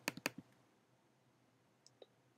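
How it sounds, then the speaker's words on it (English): Two quick, crisp clicks of a computer mouse opening the Terminal application on a Mac, close and fairly loud, followed by quiet and a couple of faint, softer ticks. "and then double-clicking on the Terminal application"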